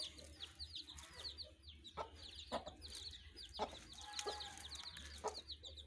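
Many week-old Aseel, desi and golden chicks cheep in high, rapid peeps close by, with occasional louder clucks and faint farmyard background.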